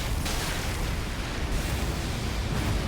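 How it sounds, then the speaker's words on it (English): A supernova-style spell explosion during an Elden Ring Shadow of the Erdtree boss fight on PC: a dense, continuous roaring blast with heavy low rumble, loud and sustained throughout, with no speech over it. "There's like freaking supernova explosion."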